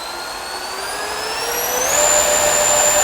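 A homemade battery-powered jet sled runs with a loud, steady turbine-like whine, its high tones climbing in pitch and growing louder around the two-second mark before holding at full power.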